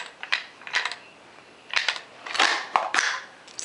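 Brass 5.56 rounds are pushed into an AR-15 magazine with a Pro-Mag five-round speed loader, giving a string of sharp metallic clicks and clacks in small bursts at close range.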